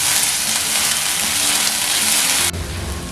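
Spiced potato mixture for potato cutlets fries in a pan with a steady, dense sizzle that runs loud throughout, the sound easing slightly near the end as it is stirred; no voices.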